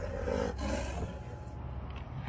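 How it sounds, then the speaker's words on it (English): A tiger roars in the wild, caught on a trail camera: a loud, deep, rough roar that swells and fades over a couple of seconds, close and alone. "Now listen to the tiger roar"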